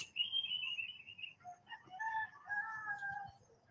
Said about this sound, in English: And the roosters agree.